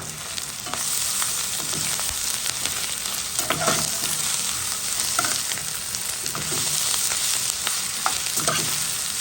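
Garlic with ginger and chilli frying in a pan, a loud steady sizzle with frequent stirring scrapes and taps throughout, no voices.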